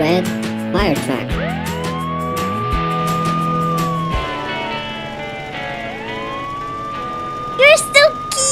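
Toy red fire truck siren rising into a long, drawn-out wail that slowly falls away and then climbs again, set against light background music with a few short high bursts near the end.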